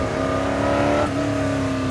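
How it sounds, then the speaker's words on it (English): A Ford GT40 race car at Willow Springs Raceway roars loudly and steadily, engine note holding high with a slight shift partway through. "This car shouts, it is absolutely deafening"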